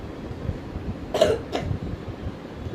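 Two short coughs, close and fairly loud, over a quiet background hum.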